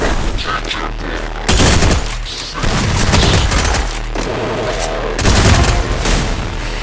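Gunfire while shooting players in a battle royale video game, loud dense bursts of automatic shots and booming blasts that crowd the whole stretch, with only short lulls between volleys.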